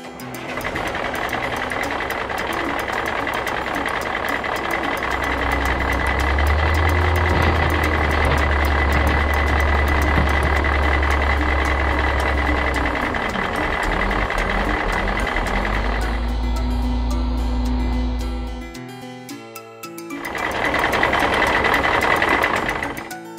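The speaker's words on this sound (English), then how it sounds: "Dump truck." Dump truck engine rumbling steadily with a repeating reversing beep over it, loud and close, the engine dropping out briefly near the end before starting up again.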